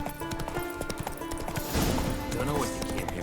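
Roach, Geralt's horse in The Witcher 3, gallops with a steady, rapid clip-clop of hooves, close and prominent over background game music.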